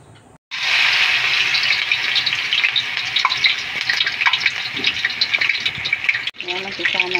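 Ukoy, shrimp fritters, frying in hot oil with a steady loud sizzle and crackle, a voice speaking briefly over it.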